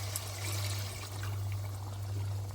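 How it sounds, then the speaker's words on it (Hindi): Water poured gradually, a little at a time, into a pot of chicken and potato curry as it cooks, a steady broadband pour with a constant low hum underneath and no talking. "ये पानी भी मैं इसमें थोड़ा थोड़ा करके डालूँगी"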